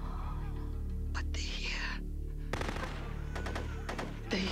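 Gunfire from a TV series action scene crackles out in short bursts and rapid volleys in the second half, fairly loud against background noise and some faint voices.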